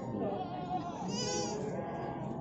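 Male goats bleat at the Ngadirejo livestock market, a wavering nasal cry rising above crowd murmur and nearby chatter, fairly close and loud.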